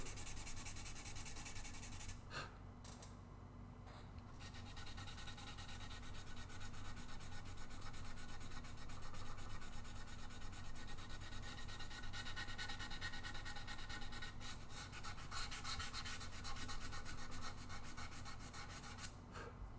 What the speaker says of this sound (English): problem with beveling is you have to sand all the bevels